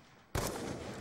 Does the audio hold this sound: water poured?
no